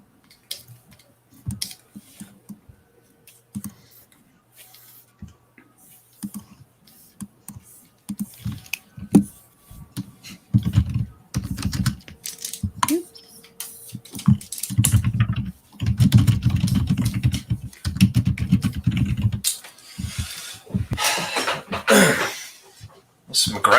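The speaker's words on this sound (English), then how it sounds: "Some aggressive typing." Hard, fast typing clatters on a computer keyboard in bursts, close and loud. A person talks intermittently between and over the keystrokes.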